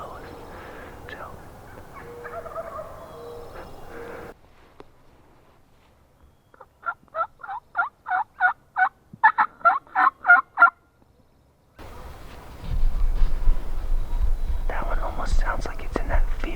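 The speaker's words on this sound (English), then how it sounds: "That one just gobbled back in the ravine and below us" A wild turkey gobbles in a ravine below, a rapid run of about ten sharp rattling notes in a distinct burst, framed by quiet whispered talk before and after in an outdoor setting.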